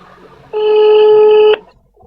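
A single steady electronic ringback tone from a mobile phone call sounds loud and near for about one second, alone apart from faint background noise.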